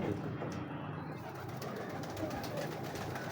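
Rare high-flyer pigeons coo softly in a loft, low murmuring calls faint under a steady background hum.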